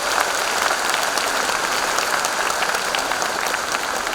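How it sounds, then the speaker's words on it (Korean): An audience at a city citizens' report event claps together in steady, dense applause, moderately loud and uninterrupted for a few seconds with no talk over it. "박수 다 함께 부탁드리겠습니다."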